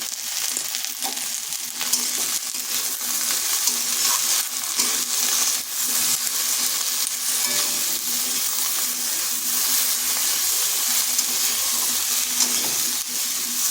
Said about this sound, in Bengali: আঁচটা মিডিয়ামে রেখে বেশ কিছুক্ষণ ঢেঁড়সটাকে এভাবে ভেজে নিতে হবে।